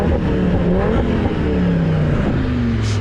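An Audi RS3's five-cylinder engine pulls hard under acceleration, a loud, raspy drone rising steadily in pitch with a gear change midway, heard from inside the car with no talk.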